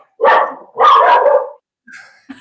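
A recorded dog barks loudly and up close, giving two long barks followed by a couple of short, fainter yips, played back through a speaker.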